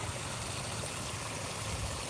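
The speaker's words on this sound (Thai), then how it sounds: "เสียงน้ำไหลครับ" Water flows steadily into a flooded rice paddy, a continuous close rushing and trickling wash with no breaks and no voices.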